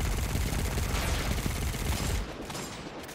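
Dense, continuous gunfire from Destiny 2 on the planet Nessus, a loud sustained burst of rapid shots that drops off sharply near the end.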